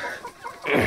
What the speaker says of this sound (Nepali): र साथै हामीसँग यो दुम्सीको भाले पनि छ है